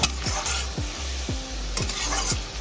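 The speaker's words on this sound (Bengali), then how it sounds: "একটু নাড়াচাড়া করে নেব" A spatula stirs prawns frying in oil in a pan, with sugar just added, scraping in a steady rhythm of six or seven sweeps over a continuous close sizzle.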